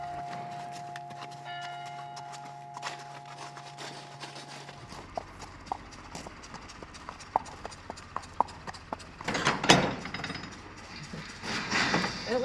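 Horse hooves clip-clop at a steady ridden walk, sharp distinct strikes standing out over a low background hum, a louder scuffing burst near the end.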